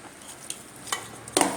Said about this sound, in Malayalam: ഇത് നല്ലവണ്ണം മിക്സ് ചെയ്തെടുക്കണം